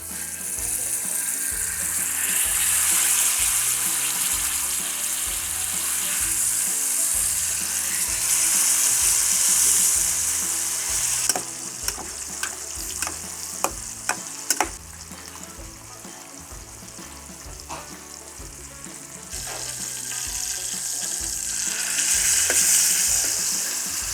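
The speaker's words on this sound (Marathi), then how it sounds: "मासे फ्राय करून घेऊया. म्हणजे पूर्ण नाही फ्राय करायचे, थोडे फ्राय करायचे." Pomfret fish shallow-frying in a pan, a loud continuous sizzle of oil under a steady low hum, broken midway by a run of sharp pops and spits before the hiss swells again.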